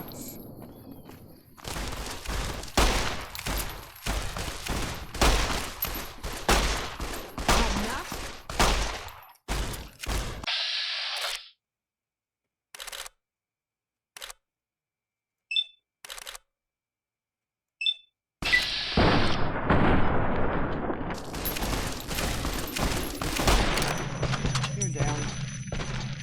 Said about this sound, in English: Stop shooting me.